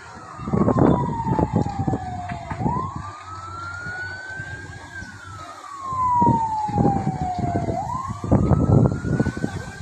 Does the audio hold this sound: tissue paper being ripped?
no